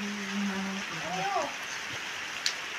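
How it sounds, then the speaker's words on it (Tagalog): Steady rain falls during a power outage, a soft continuous hiss running throughout while a voice talks over it, ending with a small sharp tap. "Naulan pa nga po hanggang ngayon."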